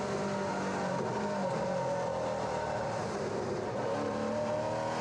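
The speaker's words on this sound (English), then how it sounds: "On board with Heimgartner, have a listen to this" Onboard engine of a BNT V8 race car lapping the Manfeild circuit: a loud, continuous V8 roar that rises and falls with throttle and gear changes, heard close from inside the car with no talk.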